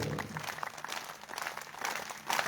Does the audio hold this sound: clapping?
yes